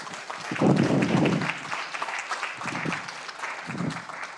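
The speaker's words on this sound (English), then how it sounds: "Let's give Dr. Campbell a round of applause today" An audience at a theological forum applauds, with a burst of clapping that swells, fades and returns in smaller waves, heard fairly close in an indoor hall.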